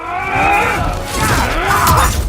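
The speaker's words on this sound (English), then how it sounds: "Frank smashes his mass onto other constructs, crushing them." A giant in a video game trailer smashes its mass onto constructs, crushing them: loud, dense shattering and grinding impacts with groaning low rumbles under a swelling score, continuous and close.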